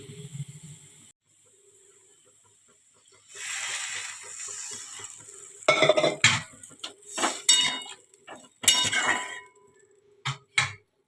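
Govindobhog rice goes into a bowl for soaking: a soft rushing pour of grains and water, then a string of close, sharp clinks and taps against the bowl, with short quiet gaps between.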